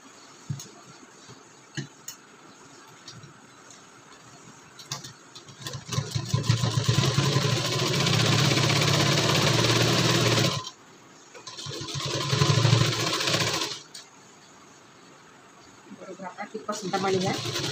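A sewing machine stitches a shawl collar blouse in two loud runs, a long steady whir followed by a shorter burst after a pause, then starting again near the end, with faint handling and ticking noises between runs.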